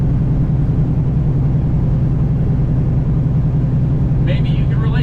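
A steady, loud low engine rumble heard from inside a moving semi-truck cab, unbroken throughout.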